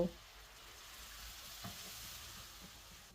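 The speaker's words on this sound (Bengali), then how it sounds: "এরপর ওই পাত্রে আবারও অল্প তেল নিয়ে তাতে কুচনো পেঁয়াজ, আদা রসুন, কাঁচা লঙ্কা ও টমেটো পেস্ট দেব।" Chopped onion, ginger, garlic, green chilli and tomato paste fry quietly in a little oil, a soft, even hiss with a faint stir partway through.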